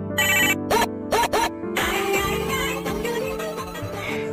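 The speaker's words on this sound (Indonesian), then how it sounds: "Tak lama pun handphone salah satu pembunuh bayaran pun berdering" A hired killer's mobile phone rings with a bright electronic ringtone: a few short trilling bursts, then a longer, busier melodic ring that carries on loudly with no talk over it.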